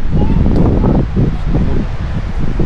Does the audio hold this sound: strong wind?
yes